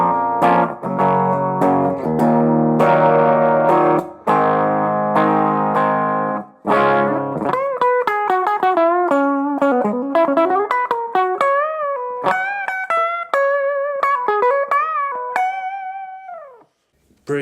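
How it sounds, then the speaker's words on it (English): Clean electric guitar on the bridge pickup, a Suhr S4, with reverb: sustained strummed chords, then a run of bright single notes and short phrases ringing out, loud and alone. "So I'm clean, I've just got a bit of reverb."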